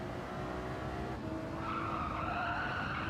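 Race car tires skid and squeal continuously in the Gran Turismo 7 racing game, a steady loud screech over engine noise with worn tires losing grip through a corner.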